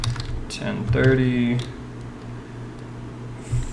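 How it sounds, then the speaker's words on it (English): Computer keyboard keys clatter in short bursts of typing during an online poker session, close and moderately loud, mixed with someone talking over them. "Sorry if my keyboard's loud."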